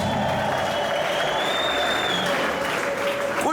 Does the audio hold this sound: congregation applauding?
yes